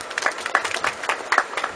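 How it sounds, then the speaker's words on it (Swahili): Students at a business and technology college graduation ceremony in Biharamulo applaud, a brief burst of uneven clapping from a group that rises and falls in loose peaks. "naomba mjipigie makofi"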